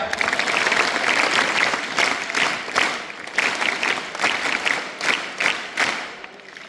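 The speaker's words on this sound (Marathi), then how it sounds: "या सगळ्यांसाठी जोरात टाळ्या." An audience at a village school event in Chapalgaon gives loud, sustained applause, a dense wash of clapping that pulses and gradually thins out.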